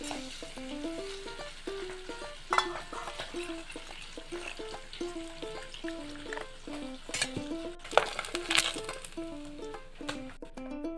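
Pathorua fish fry in a pan with a continuous sizzle and occasional stirring clinks, under a tuneful melodic background that plays throughout.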